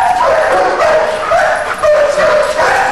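Military working dog in Marine Corps training at Quantico, Virginia, giving repeated yips and high whimpering barks, fairly close and continuous over a noisy outdoor background.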